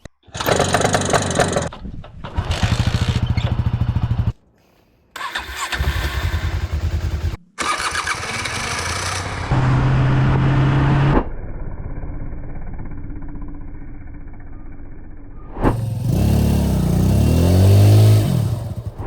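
A Honda CB500 motorcycle engine cranks and fires up, then revs repeatedly and idles in several bursts separated by brief silences, close and loud.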